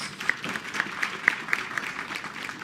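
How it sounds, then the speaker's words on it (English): An audience at a popular democracy conference gives a speaker a round of applause, a thin patter of scattered claps with a few sharp louder hits, moderately distant and fairly brief. "Let's give him another round of applause, please."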